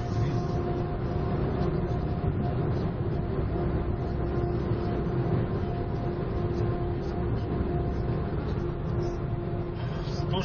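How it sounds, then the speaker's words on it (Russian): A KAMAZ truck drives along a Russian highway, a steady broadband engine and road rumble running continuously at close range, with a constant low drone throughout. "Это КАМАЗ, серьезно."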